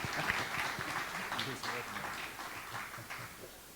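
An audience in Cavan Town Hall applauds the Muncher Connacht Celtic dancers, a steady patter of clapping that holds for several seconds while a voice talks over it.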